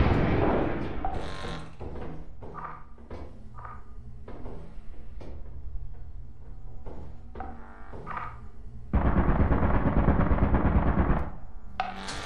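Turret firing in the game Lethal Company, heard as a steady string of close, rapid mechanical shots that turns into a louder, denser burst near the end, with scattered clicks and bumps between the volleys.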